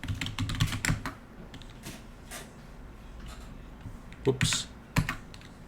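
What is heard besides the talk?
typing a new password on a computer keyboard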